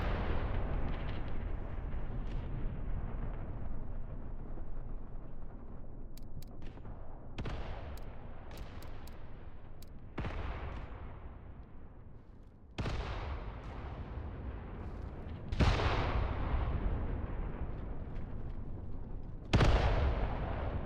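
Artillery shells slamming down one after another in the Mius Front war game, about six loud booming impacts spaced a few seconds apart, each trailing off in a long rumbling decay, with no voices.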